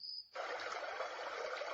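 Steady water sound from a Dreamegg Pocket Sleep 1 mini white noise machine starts abruptly after a faint high tone, then runs as an even, continuous broadband rush with no other sounds.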